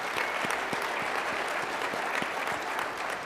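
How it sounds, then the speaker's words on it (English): Audience applause fills a hall at a collegiate track and field award ceremony, a dense steady clapping from a large crowd that holds throughout at even loudness, with no voices rising above it. "everybody's clapping"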